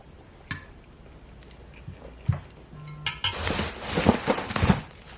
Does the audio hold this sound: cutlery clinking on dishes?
yes